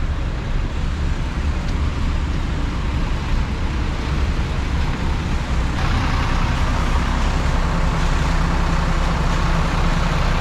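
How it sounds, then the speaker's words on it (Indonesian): A Garuda Mas intercity bus at Pulo Gebang bus terminal in Jakarta, its engine rumbling steadily amid dense, continuous roadway and terminal traffic noise, loud and close throughout with no clear speech. "Ini adalah bus Garuda Mas ya."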